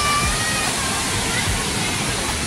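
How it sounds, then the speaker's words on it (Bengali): Dassam Falls near Ranchi, a large waterfall where bathers gather below, pours out a loud, steady, close-up roar of crashing water that stays unbroken throughout. "দশম ফলস"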